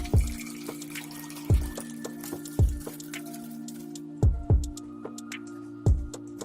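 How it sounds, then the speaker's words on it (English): Water poured onto red lentils inside a food processor, a steady liquid splash with repeated low thumps and bubbly gurgles, close and moderately loud with no talking. "We're going to pour the water on the lentil"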